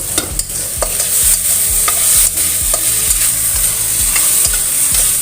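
Meat, mushrooms and mixed vegetables stir-fry in a pan with a steady loud sizzle, while a utensil scrapes and stirs in a regular rhythm of close knocks.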